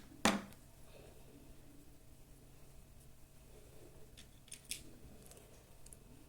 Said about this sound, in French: couper le fil.